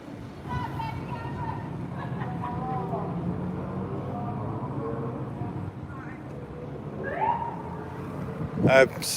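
An ambulance siren's rising wail cuts in briefly near the end over steady road and traffic noise, with voices talking throughout.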